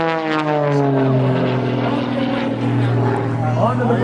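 An aerobatic propeller airplane performing at an air show gives off a loud, sustained engine drone with shifting pitch as it climbs, stalls, turns and rolls, heard continuously and close.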